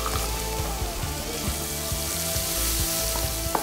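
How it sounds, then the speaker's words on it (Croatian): Onions sauté in a pan with crispy pancetta, a loud, dense, constant sizzle close up, with a faint hum running steadily underneath. "I sad ćemo na to staviti malo prodinstati luka"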